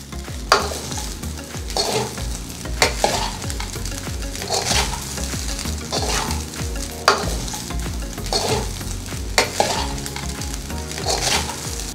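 Cooked rice is stirred through with spicy avakai mango pickle in a pan on the stove for pulihora, giving a steady scraping stir over a soft sizzle with periodic louder spoon knocks.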